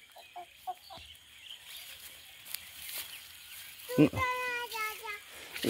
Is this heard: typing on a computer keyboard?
no